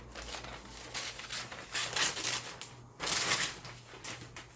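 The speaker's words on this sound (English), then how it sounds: "So I'm going to cut out this blue" Scissors cut a piece out of a newspaper with papery rustling and crisp snipping in uneven bursts, close by and quiet, without talk.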